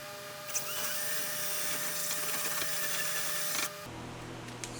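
A power drill whirs steadily for about three seconds while boring into a carbon fiber rear spoiler wing being fitted to an Infiniti G35 / 350Z, then cuts off abruptly, leaving a quieter background hum.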